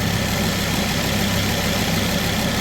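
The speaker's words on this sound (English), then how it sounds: "I don't know if you can hear me as I'm talking, the engine's running." A Ford Focus ST225 engine idles steadily, a constant close mechanical hum and rattle with no pauses or voices. The engine has a patched sump hole, an oil leak and water leaks.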